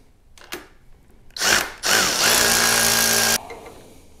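A power tool whirs while removing the 1/2-inch acorn nuts on the turn signals of a Harley-Davidson bagger during a handlebar install. A short burst is followed by a steady, loud run of about a second and a half, with no talk.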